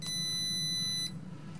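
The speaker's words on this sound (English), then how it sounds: "you can hear that the collar did beeping" A remote-controlled spray bark dog collar gives one high, steady electronic beep of about a second, clear and close over a low background hum.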